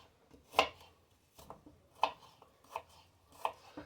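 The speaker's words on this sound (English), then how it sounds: "I got to chop it anyway to put it in my skillet" A knife chopping a small onion on a cutting board, several distinct close taps spaced irregularly with quiet pauses between them, no talking.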